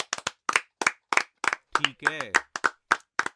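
A classroom of children claps for a student in a steady rhythm of separate, fairly close claps, about a dozen in quick succession, while a person speaks briefly in the middle.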